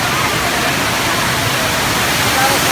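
A waterfall at the Villa Escudero restaurant in the Philippines gives a steady, close, broadband rushing roar that holds at an even level throughout, with no breaks or distinct splashes.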